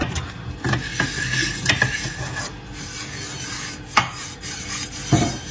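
A cut cucumber is rubbed over a frying pan in rasping, scraping strokes, with a few sharper knocks of the pan along the way, close and unaccompanied by talk.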